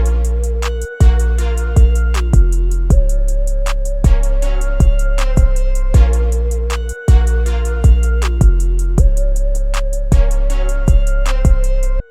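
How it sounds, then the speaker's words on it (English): Deep 808 bass pattern in an FL Studio trap beat, loud booming sub notes sliding between pitches, locked to punchy kick hits and crisp rapid hi-hats in a looping rhythm. "this is what the 808 sounds like."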